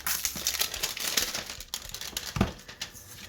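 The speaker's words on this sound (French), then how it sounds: "Il y a quelque chose simplement où on peut tirer pour le déballer." Plastic wrapping on a Slimes Makeup Surprise toy package crinkles and rustles up close as it is pulled open, with irregular crackles, taps and a sharper snap near the end; no talking.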